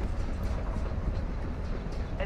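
Slow-moving train in a video game, a low continuous rumble and rattle with soft clatter, moderately loud, with faint talk underneath.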